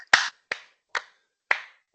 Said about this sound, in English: Just a quick unmute and round of applause